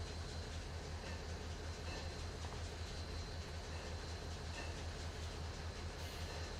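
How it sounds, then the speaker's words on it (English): The Florida Fun Train rumbles past nearby, a steady loud rolling roar with low rhythmic wheel clatter and no talking. "Y'all ever heard of the Florida Fun Train?"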